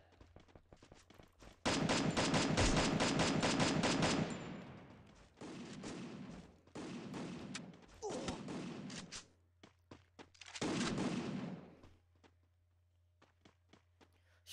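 Bursts of gunfire from the battle-royale game Garena Free Fire: a long sustained volley, then several shorter rapid bursts separated by brief pauses, loud and close with no voices.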